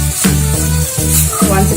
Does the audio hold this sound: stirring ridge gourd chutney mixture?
yes